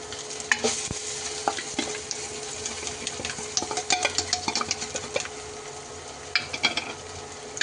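A masala mushroom mixture with tomato fries in a pan while being stirred, producing a steady close sizzle broken by frequent scraping and clinking stirring strokes throughout.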